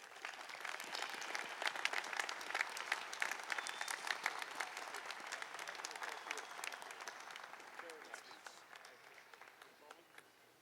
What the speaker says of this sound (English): One more round of applause for the speaker, Rendon.